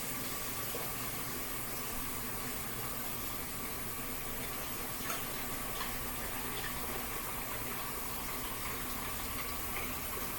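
Four cups of water poured into a pot to make broth for a Swedish meatball casserole, a steady faint rushing stream holding evenly throughout with no talking.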